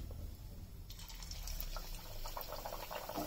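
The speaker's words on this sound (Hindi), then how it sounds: "और इसको गरम तेल में हम फ्राई करेंगे।" Methi masala puri, a fresh fenugreek puri, frying in hot oil makes a soft bubbling sizzle that starts about a second in and keeps going quietly, with gentle liquid crackles.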